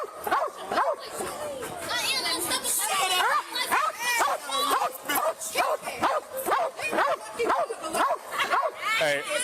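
Police K9 German Shepherd barks and yips repeatedly at close range in agitated bursts, mixed with whimpering, while people shout and talk over it.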